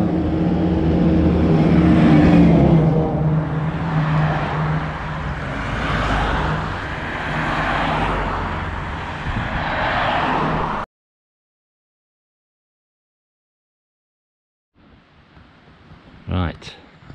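Traffic on the A82 road near Loch Ness, a steady roar of passing vehicles and wind that cuts to silence partway, then faint outdoor sound returns; a person talks over the noise.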